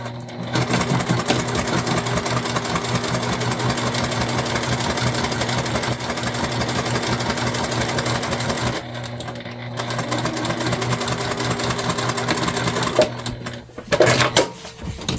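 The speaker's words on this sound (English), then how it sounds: "let's get this stitched on" A sewing machine stitches a pocket onto a tote bag, a steady, close mechanical whir with rapid needle clatter that runs almost without a break. It slows and stops near the end.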